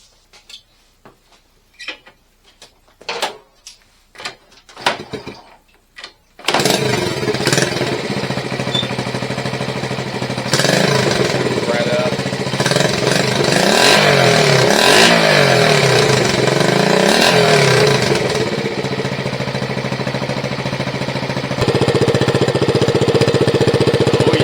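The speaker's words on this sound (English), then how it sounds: "So let's fire it up and hear it one last time." Classic Honda motorcycle engine is kicked and cranked with a few clattering attempts, then fires and runs loudly with a rough, rattling idle and occasional revs, close up.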